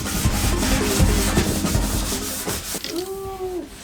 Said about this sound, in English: Time to sand the table, those jagged